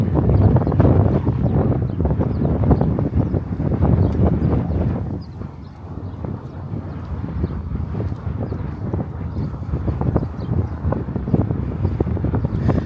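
Strong wind buffets a camera microphone on a hot Brooklyn street, a continuous loud rumbling roar that dips briefly midway, with no voices.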